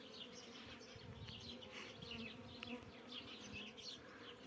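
Honeybees hum steadily at an open hive in midwinter cold, a dense, continuous buzz of many insects close to the hive with no voices.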